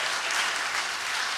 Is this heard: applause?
yes